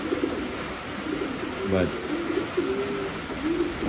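Pigeons coo inside a breeding loft, soft low repeated coos rising and falling near the microphone over a hiss of background noise, with someone talking briefly.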